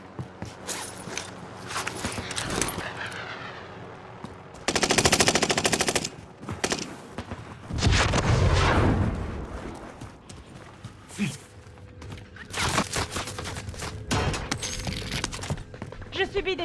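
Gunfire in Warzone rattles in repeated automatic bursts, loud and near, mixed with footsteps and other game effects while a game voice announces events in French.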